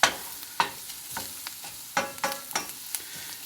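Finely chopped garlic sautéing in bacon grease for breakfast burritos: soft frying sizzle with a series of distinct scraping strokes from a utensil pushing it around the pan, close and clear.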